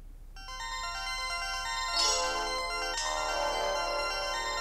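A phone ringtone plays a loud, bright electronic melody of repeating tones, swelling after a short silence and continuing steadily to the end, with no talking.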